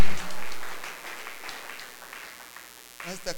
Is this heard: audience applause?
yes